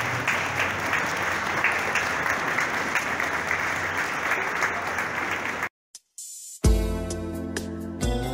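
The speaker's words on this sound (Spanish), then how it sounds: "Desde aquí un fuerte aplauso para nuestro hermano Leonel." Audience in a church applauds loudly and steadily for several seconds, then the clapping cuts out abruptly into near silence before a brief burst of music.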